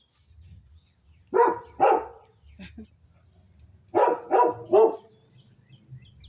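Outdoors by garden raised beds, a dog barks in a pair, pauses, then lets out a quick run of three barks, moderately near over faint background noise.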